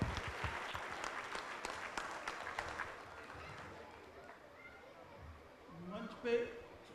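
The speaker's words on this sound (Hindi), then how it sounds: "इनका जोरदार तालियों से स्वागत कीजिए।" Faint, distant applause from an audience at a Hindi stage event greeting a speaker, thick at first and gradually fading, with voices rising near the end.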